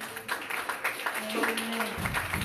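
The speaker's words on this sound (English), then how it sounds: "Give them a great big hand." A church congregation at a deacon's musical celebration gives a round of applause, rhythmic clapping under a voice and music for a couple of seconds.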